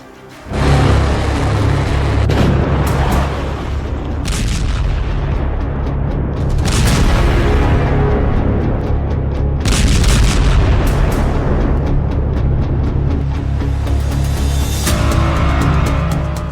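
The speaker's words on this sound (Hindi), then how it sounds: "ये ऐसा वॉर जोन है जहां बारूदी प्रहार रुकने का नाम नहीं ले रहा" Bombs exploding in a war zone under Israeli strikes: loud, deep booms burst repeatedly one after another over a constant heavy rumble, with no speech.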